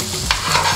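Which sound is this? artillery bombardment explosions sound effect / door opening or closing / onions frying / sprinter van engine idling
onions frying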